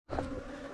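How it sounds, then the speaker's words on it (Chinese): Bees buzzing on a mountain trail at Gunung Kerunai give a brief, steady, close droning hum that starts abruptly and holds for under a second. "真的很多蜜蜂"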